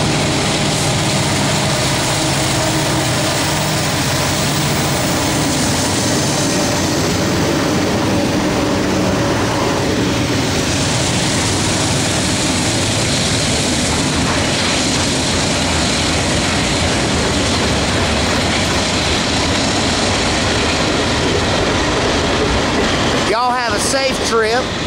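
A Norfolk Southern manifest freight train 118, led by a standard cab SD70 locomotive with Dash 9s, rumbles past loud and close in the Run 8 train simulator, a steady heavy roar over the whole stretch.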